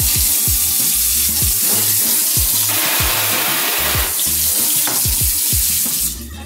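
Water runs steadily from a newly installed kitchen faucet into a sink, a continuous loud splashing hiss with low gurgling pulses, close by and without speech, easing slightly at the very end.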